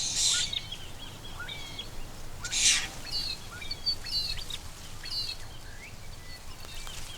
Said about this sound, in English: they've had more than enough of these pesky apostle birds